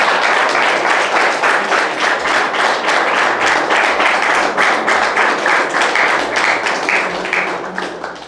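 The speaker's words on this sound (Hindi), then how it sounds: "ये तालियां बीच में भी रुक सकती थी" An audience applauds after a talk session: loud, sustained clapping fills the room at a fairly constant level. Scattered low thumps sit beneath it before it begins to fade at the very end.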